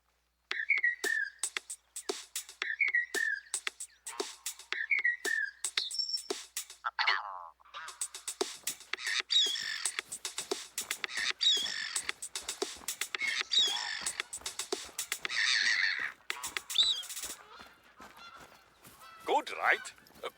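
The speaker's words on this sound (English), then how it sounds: "We recorded the call of some birds and made this." Bird calls recorded in a hunting game are stitched into a short, playful tune: repeated goose-like honks and whistles form a rhythmic loop, followed by denser chopped call bursts, loud and close.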